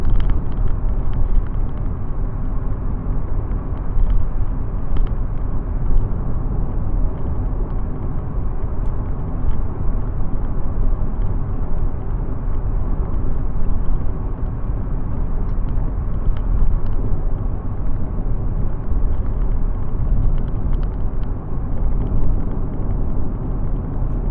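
A car cruising along a highway, heard from inside as a steady loud low rumble of engine and road noise that never lets up, no voices.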